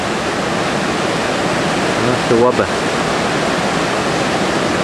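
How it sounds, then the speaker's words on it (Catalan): A glacier-fed waterfall near Aneto in the Pyrenees roars as a steady, loud broadband rush throughout, with a brief spoken remark from a person near the middle. "aquesta aigua que ve des de dalt de tot del glaciar es converteix en una cascada guapíssima."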